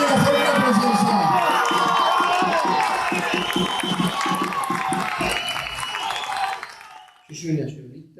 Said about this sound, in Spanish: ahí escuchábamos silbidos, abucheos